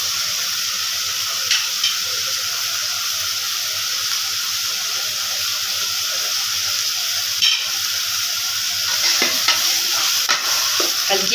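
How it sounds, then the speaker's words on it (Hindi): Spiced cauliflower, potato and peas are stirred in a pan, giving a loud continuous frying hiss with intermittent scraping and clinking of the spoon, and no talking. "पहले इसकी अच्छी तरीके से इसको मिक्स कर लूँ"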